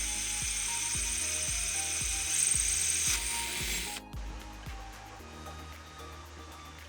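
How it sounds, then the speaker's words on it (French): A drill with a concrete bit and no hammer action bores through a shale slab, giving a close, regular run of sharp clicking strokes over a steady whine that drops away partway through. "en forant la plaque de schiste après avoir fait des repères avec une mèche béton sans percussion pour ne pas exploser la pierre"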